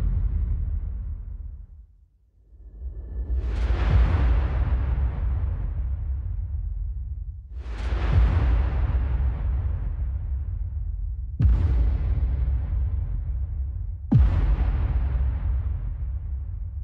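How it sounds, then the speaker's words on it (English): Four deep cinematic boom hits from the Evolution: Devastator Breakout Pro sample pack, each a heavy low impact with a long rumbling decay, spaced a few seconds apart and heard alone. "let's move along to the booms."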